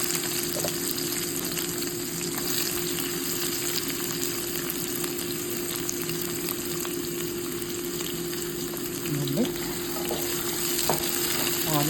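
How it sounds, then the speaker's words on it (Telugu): Onions fry in a little oil in a pan for bitter gourd fry, giving a steady, soft sizzle that runs throughout at low level, with a faint hum underneath and no talk. "ఆనియన్స్ కొంచెం వేగితే చాలండి."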